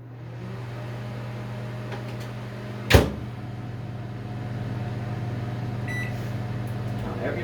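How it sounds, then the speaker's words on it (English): A microwave oven hums steadily while melting chocolate, a low mechanical drone running throughout with one sharp click or clunk partway through and faint beeps near the end. "this is going to go in the microwave and we're going to start melting this"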